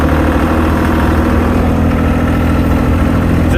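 Articulated double dumper engine chugging steadily while reversing, a loud close diesel drone with rhythmic low throb and vibration, constant throughout with no voices.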